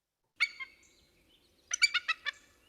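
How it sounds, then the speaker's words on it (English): Bald eagle calling with a gull-like voice: a single high shrill note, then a short pause and a rapid series of five or six thin, piping chirps, clear and fairly close against near silence. "the bald eagle vocalization doesn't sound hawkish to me. It sounds very gullish."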